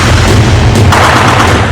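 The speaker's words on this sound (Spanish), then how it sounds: "se oyen disparos cerca del palacio" Gunfire near the presidential palace in Haiti: loud sharp reports and booms in quick succession over a dense, rumbling background, with no voices.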